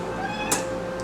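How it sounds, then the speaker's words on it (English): A male house cat meows indoors beside a cardboard box, a steady, close voice with one brighter, sharper cry near the middle and a fainter call at the end. "This is one of my cats"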